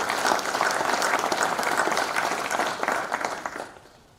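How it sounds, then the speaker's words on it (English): A crowd at a Hall of Fame induction ceremony in a performing arts center gives Andrew Fancher a round of applause, dense clapping from many hands that holds steady and then fades out near the end. "So please give everyone a round of applause."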